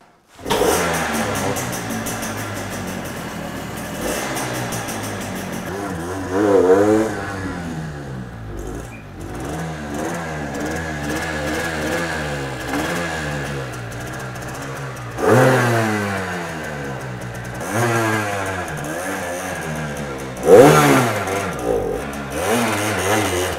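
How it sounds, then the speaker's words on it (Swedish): A small high-pitched engine revs repeatedly, rising and falling in sharp buzzing bursts like a tuned moped, loud and close throughout. "Låter som en trimmad moped"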